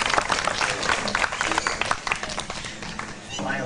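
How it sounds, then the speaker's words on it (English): An audience at a bird show on Discovery Island, Walt Disney World, claps in a burst of applause, a dense patter of hands that fades slightly toward the end, with some voices mixed in. "how about a nice round of applause for Owlix?"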